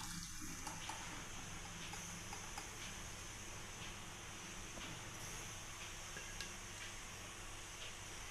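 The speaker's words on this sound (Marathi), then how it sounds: "एक चाळण घेतलेली मी बघा, खाली असं भांडं ठेवून आणि असं त्यांना नितरवून घ्यायचं आहे पाणी" Water from boiled raw mango seeds drains steadily through a sieve into a pot below, a continuous soft splashing trickle heard close and alone for the whole stretch.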